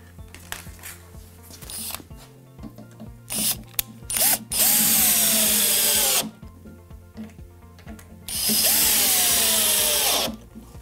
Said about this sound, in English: a couple of screws in the pilot holes, and they can be driven in using your screwdriver